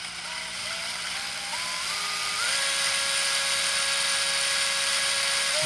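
A Porter Cable PCC647 brushless impact driver runs up to speed, its loud motor whine stepping upward in pitch over a couple of seconds before holding a steady, continuous high tone.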